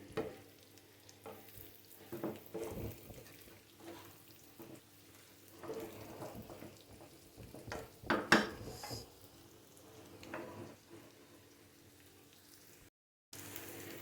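Beef tripe and onions fry in a pan, with a soft sizzle under scattered stirring scrapes and clinks of a utensil against the pan, one sharper clatter midway, fairly quiet and close.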